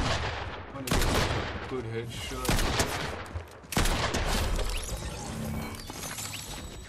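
Rapid gunfire in a Fortnite Zero Build battle royale match, dense bursts and single shots crowding each other, with a voice speaking briefly over the shooting.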